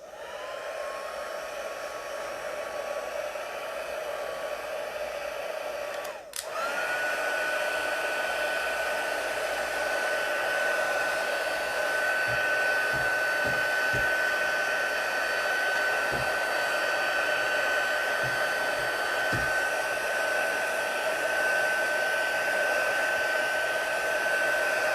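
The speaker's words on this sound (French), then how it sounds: "on peut le faire sécher aussi avec notre pistolet chauffant" A heat gun blows steadily while drying a suede-effect paper craft, a loud constant whirring hiss with a steady whine, briefly interrupted by a click as its setting changes and its pitch rises.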